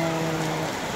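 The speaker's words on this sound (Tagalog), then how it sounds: "tuloy-tuloy na ulan. Hindi siya yung ulan talaga na ano lang ha." Continuous steady rain falls outdoors, a dense even hiss that stays constant throughout without any talk.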